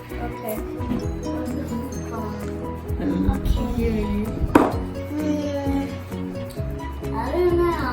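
Slime stirred with a spoon in a bowl by a blindfolded maker, giving intermittent clinks and scrapes against the bowl under steady background music and children's chatter.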